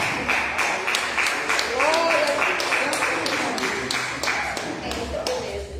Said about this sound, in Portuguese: Dê uma linda salva de palmas para Jesus.